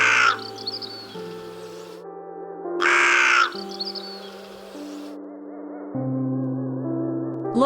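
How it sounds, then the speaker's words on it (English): A crow gives several loud, harsh caws in bursts, alone and close, separated by short gaps filled with soft tonal background sounds. "Look, here is a crow."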